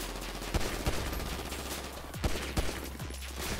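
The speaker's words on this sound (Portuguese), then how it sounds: "tô levando tiro pelas costas aqui, não tô nem vendo da onde" Gunfire in the game GTA V, several sharp shots cracking out at irregular intervals over a dense background din, moderately loud and with no voices.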